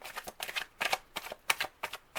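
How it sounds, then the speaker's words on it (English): Tarot cards being drawn from a pre-shuffled deck, a quick series of soft papery slides and flicks in short irregular bursts, close and quiet, with no voice over them. "I am going to be pulling one card from each deck."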